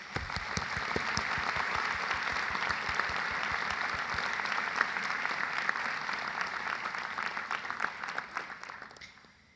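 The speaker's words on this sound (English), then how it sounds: "I want everybody to give a round of applause for all of you being here today" An audience at a Model UN opening ceremony gives a sustained round of applause, dense steady clapping from a large crowd that holds for several seconds before tapering off at the end.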